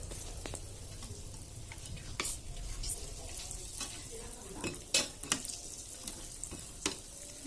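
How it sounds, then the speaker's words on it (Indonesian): Mozzarella corn dog frying in hot oil, a continuous close sizzle with sharp crackling pops and bursts scattered throughout, no voices. "Goreng sampai warnanya kuning keemasan."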